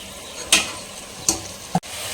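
Marinated chicken stirred in a hot sizzling pan for biryani, a steady low frying hiss broken by three short scraping stirs of a utensil, close and fairly quiet with no talk.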